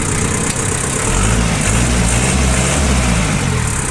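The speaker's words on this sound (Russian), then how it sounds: "Мотор очень и очень резво реагирует на нажатие на педаль газа" A mini tractor engine for gardens runs loud and close, responding briskly to the throttle, chugging roughly with slight rises and dips in pitch.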